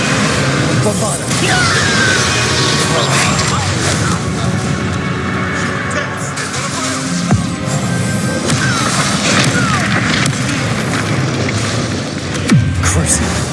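Bombarda explosion spells in Hogwarts Legacy gameplay go off as loud booms and crashes amid dense battle noise, with whooshes and impacts throughout and voices talking over the combat.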